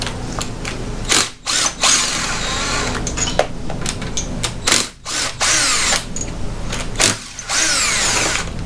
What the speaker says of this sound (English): I'll take this bolt out, which is the ground wire.